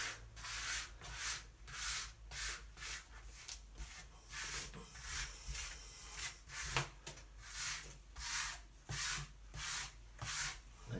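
Grout being pushed diagonally with a float across wall tiles of a sink splash back, a steady rhythmic scraping and rubbing of about a dozen even strokes, close and moderately loud with no talking.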